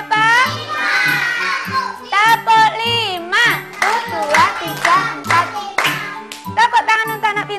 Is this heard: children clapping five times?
yes